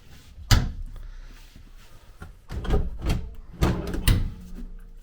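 Doors inside an RV, a River Ranch 399RL, open and close in a series of close, sharp knocks and thumps, with several quick clatters toward the end.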